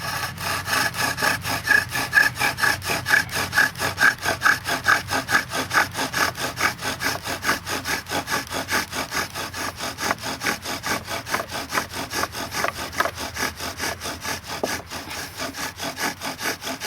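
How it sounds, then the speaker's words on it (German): A bow drill spindle spins in a pre-drilled hole in wood, giving a steady rhythmic back-and-forth rasping friction, close and continuous for the whole stretch. "Der Bogen genommen. Eingespannt, die Spitze ins Loch eingeführt,"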